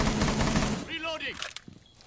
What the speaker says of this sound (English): Bandits is shooting again, having some missed shots